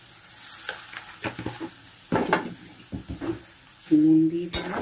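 Ground ginger, garlic and onion masala paste with salt frying in a pan, soft sizzling under uneven scraping and stirring strokes, with a few sharp clinks of utensil against the pan.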